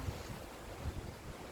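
Steady wind rushes through trees outdoors, a soft, continuous airy roar with low gusty rumbles and no voices, fairly faint and even throughout.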